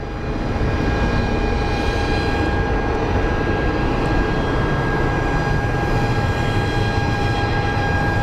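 A heavily loaded CRJ regional jet takes off, running almost the full length of the runway, a steady loud engine roar holding level and close throughout with no talk over it.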